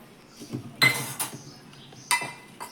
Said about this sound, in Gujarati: બાજરાનો લોટ હવે કોળવું કરી નાખીએ